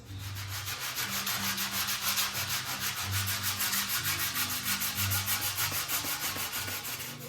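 Hand sanding with 80-grit paper on a painted 1932 Ford dash, a steady rhythmic back-and-forth rasp repeating about four times a second, close and even, with no talking.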